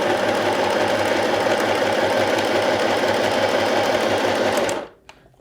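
A cheap $45 sewing machine runs loudly and continuously with a fast rattling whir, then stops abruptly near the end, leaving near silence.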